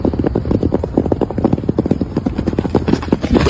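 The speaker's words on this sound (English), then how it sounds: "you can hear the footsteps of these horses" Horses' hoofbeats from a played-back video pound in a fast, loud, dense rhythm of galloping thuds, continuous throughout.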